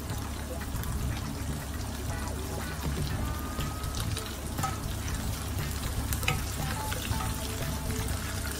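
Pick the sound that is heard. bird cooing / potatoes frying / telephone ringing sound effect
potatoes frying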